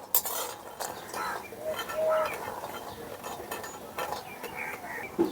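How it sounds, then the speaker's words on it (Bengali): Lentil bori (dried lentil dumplings) fried in oil and stirred constantly in a pan, with a utensil scraping and clinking against the metal under a soft, steady sizzle, close by and fairly quiet. "এই কলার ডালের বড়িগুলো এখন তেল দিয়ে ভেজে নেব।"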